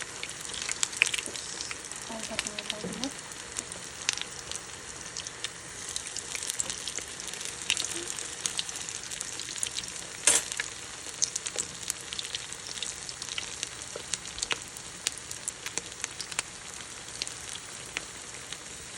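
Liver cutlets fry in a pan with a steady, soft sizzle throughout, broken now and then by faint crackles and pops, with no talk.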